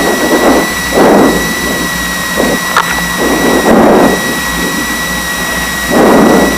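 A Piper Seneca twin-engine aircraft taxis with a loud, steady engine drone and a high whine running throughout, while repeated rumbling gusts swell and fade at close range.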